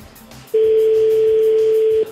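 A steady, loud electronic phone tone from a call drones continuously for about a second and a half, rising abruptly from a quiet background and cutting off sharply, with no voices over it.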